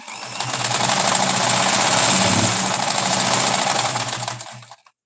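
A home sewing machine stitches a hijab in one continuous, fast, rattling whir that runs close and loud for about four and a half seconds, then stops.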